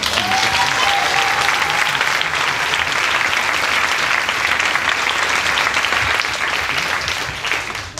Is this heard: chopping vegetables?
no